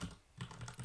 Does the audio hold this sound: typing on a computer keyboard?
yes